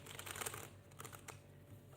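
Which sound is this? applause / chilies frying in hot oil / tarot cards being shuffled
tarot cards being shuffled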